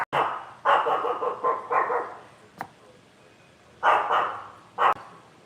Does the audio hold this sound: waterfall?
no